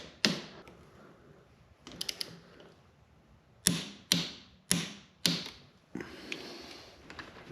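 Torque wrench on BMW F650GS fork pinch bolts, sharp mechanical clicks arriving singly and in quick pairs with short pauses between, close and fairly quiet.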